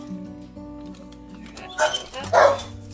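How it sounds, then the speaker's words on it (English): A dog at home in a kitchen gives a couple of short, excited yips and barks near the end, fairly close, over faint background noise. "my dog got excited"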